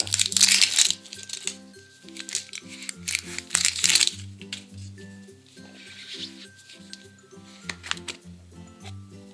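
Plastic packaging around a Jurassic World slime egg crinkles and tears open in two brisk bursts of crackling, with quieter rustling between them over steady background music.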